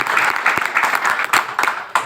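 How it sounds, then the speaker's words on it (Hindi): Business event audience clapping for Surendra sir, a crowd applauding with distinct sharp individual claps standing out over the rolling applause, the level rising and dipping in uneven bursts. "एक हमारे सर सुरेंद्र सर के लिए एक बार तालियां हो जाए"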